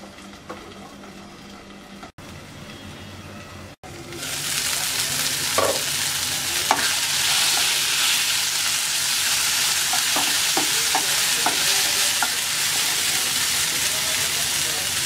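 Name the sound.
eggplant frying and being stirred in a pan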